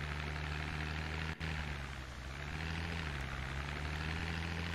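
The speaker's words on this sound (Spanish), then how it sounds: "Suena el helicóptero por ahí a lo lejos." A helicopter in the Project Zomboid video game drones far off as a steady low rotor rumble under constant broadband noise, with no talk over it.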